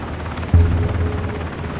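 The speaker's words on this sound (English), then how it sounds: "If he gets on this chopper" A helicopter in the Ring of Elysium battle royale shooter starts up suddenly and loudly, then holds a close, steady low rotor thrum with no talk over it.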